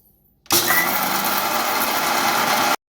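Puffed rice and peanuts are ground in a kitchen mixer grinder, which snaps on with a loud, steady high-speed whir for a little over two seconds before stopping dead into silence.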